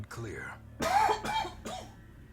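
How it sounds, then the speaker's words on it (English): A person coughs three times in quick succession, harsh and close, with a raspy throat-clearing quality. "I am going to cough."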